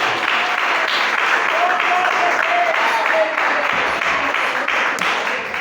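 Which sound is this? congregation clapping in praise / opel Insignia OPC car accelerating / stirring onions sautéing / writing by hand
congregation clapping in praise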